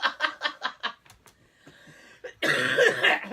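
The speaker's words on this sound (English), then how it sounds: "Sorry about the cough." A close run of about five sharp coughs in quick rhythm, then a few softer breaths and throat sounds, followed by a burst of louder indistinct noise.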